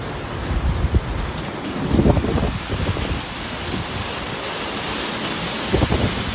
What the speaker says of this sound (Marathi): बघा अजिबात दिसत नाही आहे एवढा मोठा पाऊस आला